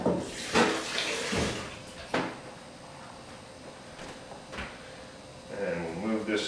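Running tap water splashing over hands being quickly washed at a kitchen sink during turkey preparation, with a few knocks and clatters nearby, fairly close and moderately loud.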